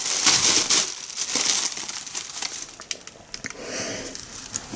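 A plastic bag crinkles and rustles loudly as a cat tears at it, with dense crackling bursts that thin out into scattered rustles toward the end.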